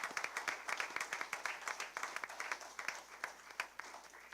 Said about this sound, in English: So let's give them a round of applause and a great job there as well.